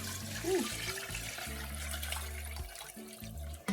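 Water poured from a container into a cooking pot of garlicky Jamaican stew peas, a continuous splashing gush with a short tonal bubbling, over background kitchen hum.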